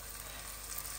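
Syrniki (cottage cheese pancakes) frying in a pan with a steady, soft, continuous sizzle throughout, fairly quiet and close, with no voices.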